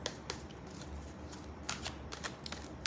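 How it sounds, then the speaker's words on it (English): A deck of tarot cards is shuffled close up, quiet riffling bursts and soft flicks coming in uneven clusters as cards are handled and drawn, with no voices. "let's pull out a few more cards"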